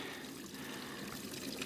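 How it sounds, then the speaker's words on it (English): Overflowing water runs out of a full tank and trickles down through a farm field, a faint, steady wash of flowing and dribbling water heard alone outdoors. "And you can hear all kinds of water"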